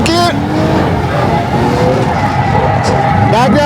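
A racing game car flicked into a handbrake turn, with loud continuous engine drone and tire skid noise throughout, gear shifts audible at start and end, while a voice talks over it.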